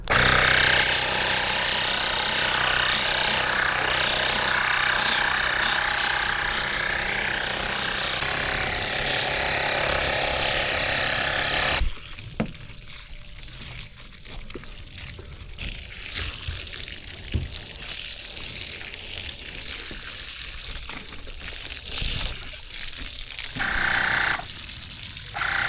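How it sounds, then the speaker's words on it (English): NEBURIA Gen 2 electric foam sprayer washing a car: a loud, steady mechanical whir and hiss of spraying that cuts off abruptly about halfway, followed by quieter dripping, scrubbing and splashing water noises. "Clean a car like a professional with the NEBURIA foam gun."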